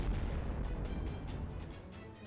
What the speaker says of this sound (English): I think that calls for another cannon blast